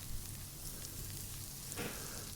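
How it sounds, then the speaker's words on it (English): A knob of butter melts and foams in a hot cast iron skillet, giving a soft, steady sizzle and crackle, quiet and close, with a brief louder spit near the end. "We're melting a knob of butter in our cast iron skillet."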